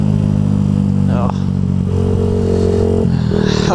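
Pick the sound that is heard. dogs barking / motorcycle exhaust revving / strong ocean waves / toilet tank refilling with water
motorcycle exhaust revving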